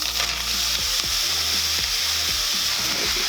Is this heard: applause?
no